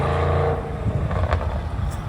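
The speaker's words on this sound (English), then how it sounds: "So my boy Anthony just pulled up with his S7. That thing sounds good." Audi S7 with a twin-turbo V8 idling and rumbling nearby, a steady low engine drone with slight throttle swells, heard alone without talk.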